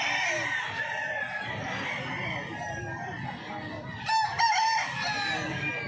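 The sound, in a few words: chickens and roosters crowing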